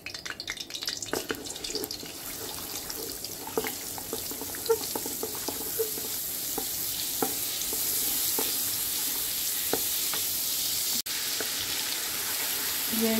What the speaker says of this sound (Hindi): यह ginger and garlic paste add करके इसको 30 सेकंड मैंने फ्राई किया।